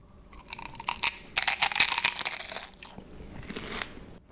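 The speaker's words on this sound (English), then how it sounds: "So it's just fish skin, deep fried and covered in flavoring, which is the egg part." Crispy deep-fried fish skin with egg flavoring from a Singapore hawker stall crunches loudly under close bites, a series of sharp crackling snaps followed by quieter chewing crunches.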